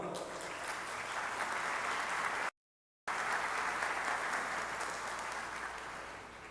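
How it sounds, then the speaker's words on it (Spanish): Applause from the audience at a 2006 legal forum on reforming the Civil Code, steady clapping from a seated crowd, briefly interrupted by a gap of silence before resuming. "a quien saludamos con un fuerte aplauso"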